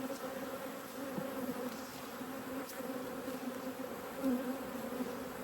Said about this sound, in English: This is definitely what a massive colony of bees looks like.